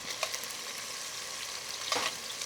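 Beef pieces browning in a hot pan for carne guisada give off a quiet, even frying hiss with a couple of brief scrapes or pops, and no one speaks.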